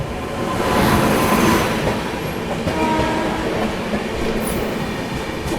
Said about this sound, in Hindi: सामने से आ रही है 82501 लखनऊ न्यू दिल्ली IRCTC तेजस